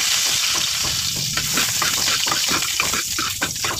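Chopped garlic hits hot oil in a pan and fries with a loud, continuous crackling sizzle, close and steady throughout.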